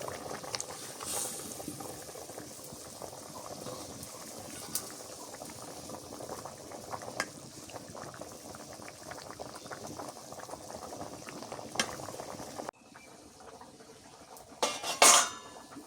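Silver carp fish cook in a boiling curry, which bubbles and simmers steadily up close with occasional utensil and pot clinks, then goes briefly quiet before a louder clatter at the end.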